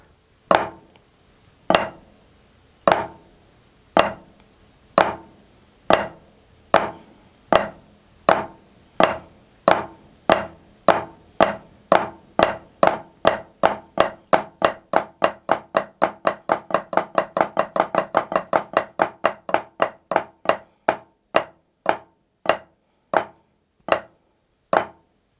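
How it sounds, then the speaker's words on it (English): Drum flams played open, closed, open: evenly spaced sharp strikes that steadily speed up into a dense roll, then spread back out to slow, separate hits, loud and close with no talking. "Now I'm going to play the flam open, closed, open."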